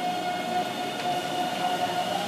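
Automated Taipei metro train on the Wenhu line, a steady, fairly quiet rolling hum with a thin high whine running throughout, heard from inside or beside the train without talk.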